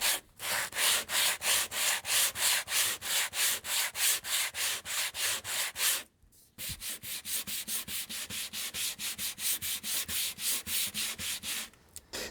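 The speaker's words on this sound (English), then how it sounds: "I want to go over it with a sanding block to make sure that everything is nice and level" Steady back-and-forth rasping of a sanding block on a wooden model railway layout around a Walthers turnout, loud and close, in rapid rhythmic strokes with one brief pause partway through.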